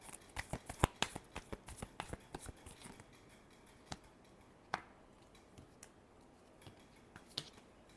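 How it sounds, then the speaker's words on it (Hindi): Tarot cards are shuffled by hand close up, a rapid run of crisp riffling snaps that thins out into scattered single clicks, quiet and with no talking. "Last shuffle."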